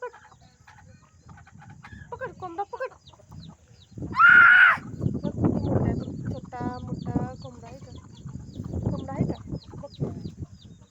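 A large white rooster clucks and calls outdoors, with one loud, sharp burst in the middle and softer clucks before and after, while people talk and call out nearby.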